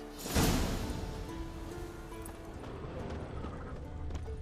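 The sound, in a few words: horse hooves clip-clopping in Witcher 3 video game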